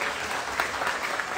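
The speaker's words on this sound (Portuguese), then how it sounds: "Você pode se assentar aplaudindo o nome do Senhor." A church congregation at an Easter service claps steadily, a full, dense round of applause filling the hall.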